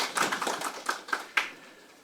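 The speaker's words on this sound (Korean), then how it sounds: "네, 다시 한번 모두 큰 박수로 환영해 주시기 바랍니다." A forum audience applauds to welcome the panelists at a debate on a sugar levy. The applause is thin and scattered, with a few distinct claps that fade out quickly at a modest distance.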